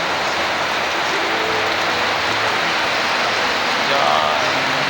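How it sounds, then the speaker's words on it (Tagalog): Heavy rain pours down in a steady, loud, broadband roar that continues without a break, close and dense, with faint traces of voices beneath it. "Lakas ng ulan."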